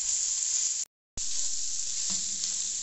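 Chicken kachori filling of boiled chicken with spices sizzles steadily in a pan as it is fried, a continuous close hiss broken by a brief silent gap, with a soft stir near the end.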